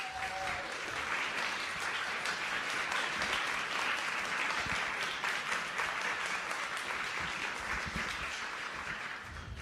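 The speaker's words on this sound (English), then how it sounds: "you deserve a huge round of applause" Audience applause for a research team at a hospital research day event, steady sustained clapping from a large crowd filling the room for nearly ten seconds at even loudness.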